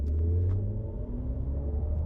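Mercedes EQS SUV electric drive using its Silver Waves sound profile while accelerating, a steady low synthetic rumble resembling a combustion engine, continuous and close, with no talk.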